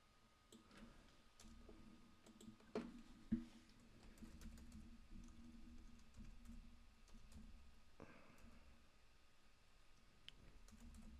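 Quiet, uneven bursts of keystrokes on a computer keyboard while someone designs a cabinet in Fusion 360, with a couple of louder clicks and short pauses between runs of typing, all close and faint.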